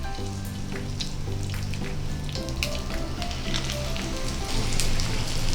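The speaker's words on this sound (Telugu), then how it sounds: "ఇప్పుడు వీటిని షాలో ఫ్రై చేసుకుందాము" Rava (semolina) cutlets shallow-frying in hot oil in a pan over medium flame, a continuous close crackling sizzle that stays steady throughout, with a faint tonal hum underneath.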